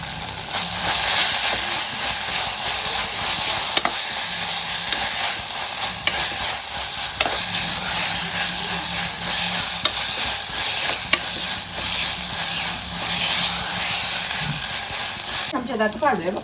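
Ginger garlic paste frying for mutton curry, stirred steadily in the pan: a loud, continuous close-up sizzle and hiss with repeated scraping stir strokes throughout.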